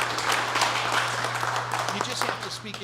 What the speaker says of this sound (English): if you wouldn't mind a little round of applause for our special education supervisor, Rachel Tierney